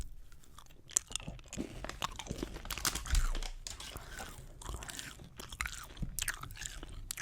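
Peppermint chewing gum is chewed close to the microphone in a quiet ASMR setting, with a steady run of soft crunches, crinkles and wet bites.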